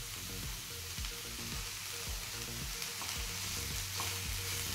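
Masala with fresh mint and coriander leaves frying for tomato bath: a faint, steady sizzle with occasional light stirring, under a low tonal hum.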